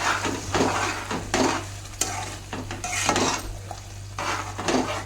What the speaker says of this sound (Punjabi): ਲਓ ਤੜਕਾ ਆਪਾਂ ਲਾ ਲੈ